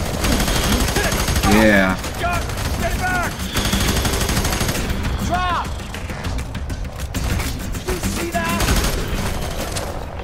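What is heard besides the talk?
gunfire in video game F.E.A.R. 3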